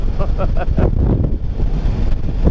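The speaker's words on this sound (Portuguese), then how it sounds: "Aqui venta muito, meu, ó. Chega até a dar uns tapas assim na moto." Strong coastal wind batters a motorcycle and the microphone near vegetated dunes at Arraial do Cabo, a loud, rough roar of gusts throughout, with a brief voice at the start.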